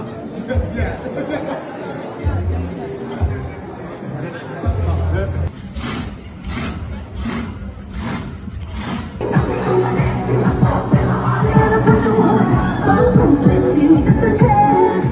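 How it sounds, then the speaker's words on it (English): A crowd of eager spectators streams into Queensland Raceway for a motorsport and music festival, a loud continuous babble of chatter and voices that swells toward the end. "the gates of Queensland Raceway opened and crowds of eager spectators rushed inside"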